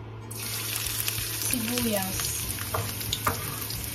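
Onions and garlic sauté in a pan with a steady sizzle and light stirring, set against a constant kitchen hum, with a voice heard briefly.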